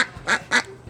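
Two loud, close duck quacks in quick succession at a countryside resort in Cox's Bazar, with quiet background in between.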